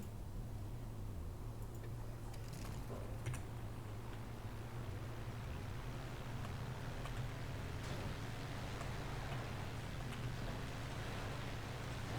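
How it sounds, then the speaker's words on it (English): A microlight glider engine in the FiveM role-play game, a steady low drone that stays constant and moderately loud the whole time, with no talk. "I was able to start the engine"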